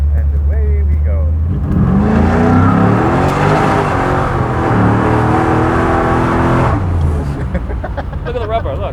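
A car engine revs and accelerates hard nearby at a behind-the-scenes drive with a TV host, the pitch climbing then holding before easing off, loud and dominant with a brief tyre-squeal-like rise; voices come in faintly near the end.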